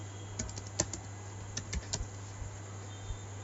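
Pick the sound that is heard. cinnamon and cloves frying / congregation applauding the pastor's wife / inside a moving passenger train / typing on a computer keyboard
typing on a computer keyboard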